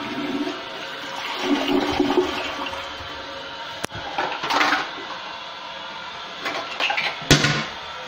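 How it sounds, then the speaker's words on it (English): Toilet flushing, a long rushing swirl of water with a couple of sharp clunks from the handle and bowl, fairly close and loud, with no talking over it. "You're gonna flush it!"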